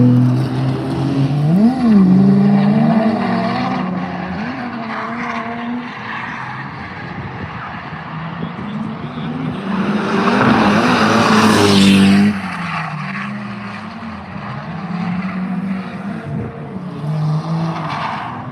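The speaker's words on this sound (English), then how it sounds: "This S15 looks like he knows what he's doing." A Nissan S15 drift car works the Minami course at an autumn drift matsuri, engine roaring loud and close with wavering revs, bouncing off the limiter and a long burst of tire squeal and skidding in the middle, with no talk.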